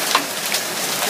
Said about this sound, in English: Hail. Literally. Look at this hail.